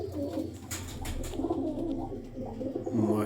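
Several pigeons of a bred flying stock coo repeatedly close by in a loft, soft throaty calls overlapping in a loose rhythm with faint fluttering.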